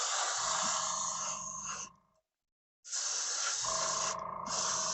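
A spray booth's cheap fan running with a steady loud hiss and whoosh, cutting out briefly for under a second before starting up again at the same level.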